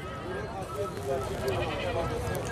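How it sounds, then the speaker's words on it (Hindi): A goat at the Haripur livestock market bleats in short, wavering cries, close by, over a busy background of people talking. "उसके अलावा ये बकरी खड़ी है, इसके साथ भी एक बच्चा"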